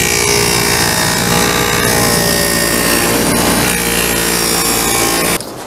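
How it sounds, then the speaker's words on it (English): A power tool cuts a dado into wood for a shoe stand, a loud continuous whining saw roar that holds steady for several seconds before stopping abruptly at the end. "I'm gonna put that dado in there now."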